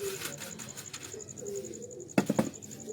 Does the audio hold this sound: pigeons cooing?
yes